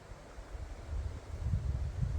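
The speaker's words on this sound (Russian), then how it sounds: "И сейчас опять налетел ветер." Wind gusts by Lake Peipus before a storm, a low rumbling blow on the microphone that swells and grows stronger toward the end, with no voices.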